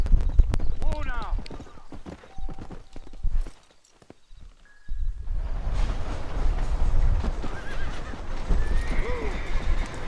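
A horse in the Red Dead Redemption game whinnies twice, while hooves clip-clop in steady rhythm around a brief silent gap. Nearby, other game sounds and low voices run under the hoofbeats.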